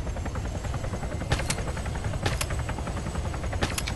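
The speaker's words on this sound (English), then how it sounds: "Yep, that's a Hellcat." A Hellcat helicopter in ARMA 3 drones steadily close by, its rotor chop continuous, while a few sharp cracks like distant gunfire punctuate the noise.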